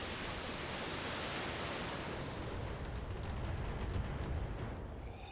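Weapons fire in the Battletech video game comes as a dense, roaring wash of explosive noise, loud and continuous with a heavier rumble swelling near the end.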